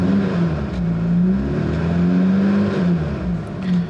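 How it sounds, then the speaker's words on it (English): A Fiat Panda 4x4's engine is revved up and down a few times, close and fairly loud, a throaty hum swelling and easing with no talking. "Let's give it a little rev and see what it sounds like."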